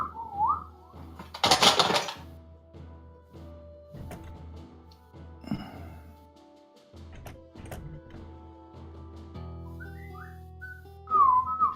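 A pet bird gives short whistled calls at the start and again near the end, fairly close, with quieter chirps and household noise and a brief loud burst in between.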